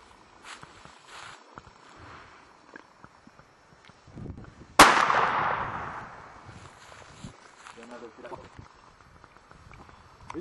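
A W W Greener 4-bore double rifle fired outdoors in Zimbabwe, one sharp, loud blast midway with a long rolling decay, amid quiet footsteps and rustling, with people talking softly afterward.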